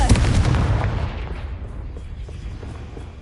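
A Confringo blasting spell detonates in a loud, close, booming explosion that hits at once and then rolls away into a long, fading rumble.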